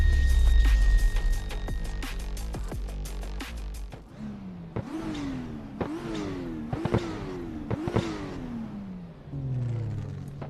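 A Toyota Cresta JZX100 engine in Assetto Corsa on a touge drift lobby revs in repeated rising pulls after an early steady drone, loud and close with no talking.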